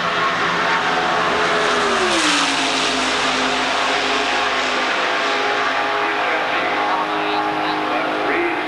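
A 1985 Indy race car roars down the main straightaway, its engine note loud and sustained with a pitch that dips as it passes, under continuous trackside commentary.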